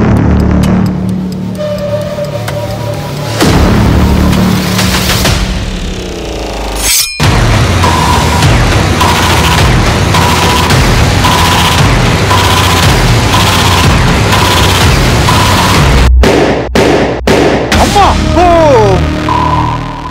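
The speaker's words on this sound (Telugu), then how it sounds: "మళ్ళీ మీ బాంబ్ బ్లాస్ట్ అయిపోయింది" Bomb blast effect on a Telugu TV game show, a sudden booming hit followed by loud sustained music and sound effects with several sharp stabs, all played loudly with no clear talking.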